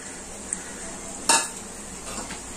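Chicken liver tipped into a pan of sautéed onions for a country chicken gravy, a steady sizzle with a sharp utensil clatter midway and light stirring scrapes, close up and without talk.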